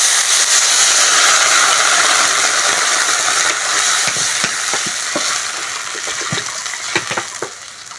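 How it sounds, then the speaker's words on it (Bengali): Water poured into a hot pan of fried potatoes for a cauliflower and bata fish curry raises a loud, steady hiss and sizzle that fades slightly, with faint clicks and stirring taps toward the end. "এবার জল দিয়ে দেবো।"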